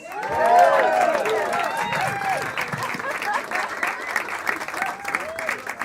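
Loud audience applause at a stand-up comedy showcase, scattered cheers and whoops, a dense crowd clapping steadily throughout, tapering slightly toward the end.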